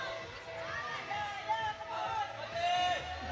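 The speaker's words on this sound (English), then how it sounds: "we can hear her students just cheering her on" Students cheer on a climber in the open finals of a climbing competition, a lively crowd of whoops and calls rising and falling at moderate distance over a steady hubbub.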